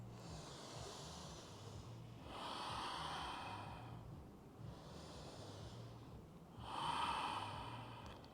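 Slow, deep breathing during a yoga class, soft airy inhales and exhales alternating about every two seconds, faint and close with a low hum underneath.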